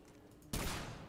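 A single loud gunshot bursts out midway in Remnant 2, cutting through a quiet game background and trailing off in a short rumbling decay.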